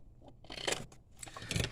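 Scissors snip through craft material while a large Easter basket is being made, giving a few faint, brief cutting and rustling bursts close by with no talk.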